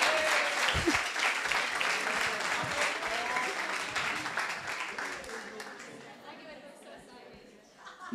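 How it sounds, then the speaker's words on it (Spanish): Strong applause fills a youth plenary session hall, with chatter mixed in, and gradually fades away over several seconds, leaving a brief quiet tail. "Oye, un aplauso fuerte, que todos somos igual"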